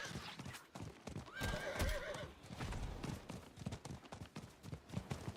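A horse in the Diablo IV video game, hooves clip-clopping at a quick rhythmic gallop with a neigh partway through, close and moderately loud, no speech over it.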